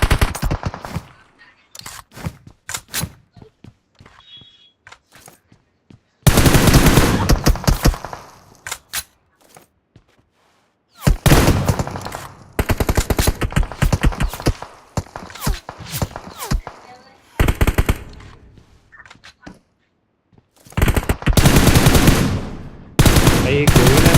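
Bursts of automatic gunfire from a mobile shooting game in a 2v2 battle mode, loud rapid volleys separated by short pauses and quieter footstep-like clatter, with some talk mixed in.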